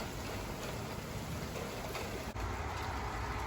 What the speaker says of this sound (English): So it looks like we've got quite a bit of rain today.